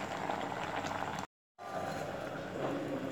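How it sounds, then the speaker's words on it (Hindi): Raw mango and gunda (lasoda) simmer in a pot, giving a steady bubbling, hissing wash of boiling liquid that is briefly cut to silence for a moment before resuming. "देखिए हल्का सा भी उबालना है।"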